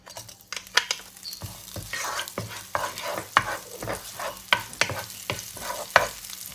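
Oil sizzles and crackles in a wok as chili hits it, with steady frying hiss and repeated stirring scrapes throughout.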